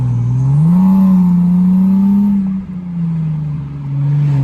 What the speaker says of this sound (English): We're gonna do like a little rev battle. The inline 6 versus the V6.